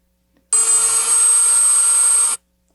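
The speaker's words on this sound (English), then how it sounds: "Think of other things that can be used to grind. Maybe small things. Dremel." A Dremel rotary tool running in a workshop, a steady high-pitched whirring grind that starts abruptly, holds evenly for about two seconds, then stops, loud and alone.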